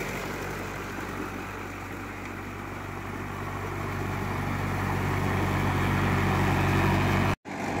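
A Mahindra 575 DI tractor on cage wheels drives with a steady, droning diesel rumble that holds loud and constant throughout, swelling slightly before a momentary cut near the end.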